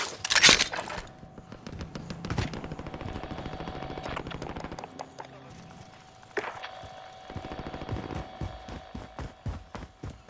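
SMG and assault rifle fire in the video game Call of Duty: Warzone, rapid bursts of gunshots on and off with brief gaps, mixed with in-game sounds and voices speaking.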